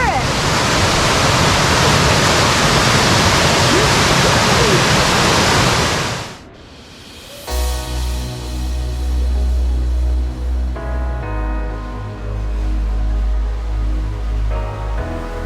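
A rushing river on a jungle trek in Colombia roars loud and steady for about six seconds, then drops away abruptly and other quieter sounds take over.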